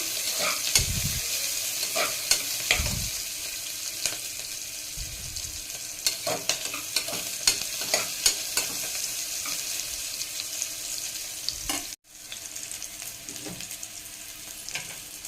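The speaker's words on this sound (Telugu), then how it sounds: "ఏ బిర్యానీకైనా ఆనియన్స్ బాగా వేగాలండి" Sliced onions frying in oil for a pressure-cooker chicken biryani, a steady crackling sizzle with stirring scrapes and a few louder pan knocks, close and continuous with no talking.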